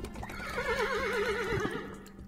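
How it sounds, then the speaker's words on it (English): A horse neighs in a long, wavering whinny at moderate loudness, with faint hoof clops beneath it. "Horses"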